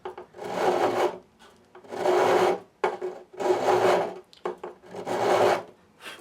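A fret file dresses the edges of newly installed frets on a Martin D-35 acoustic guitar, giving four long, loud rasping strokes in a steady rhythm with short pauses between them. No one speaks.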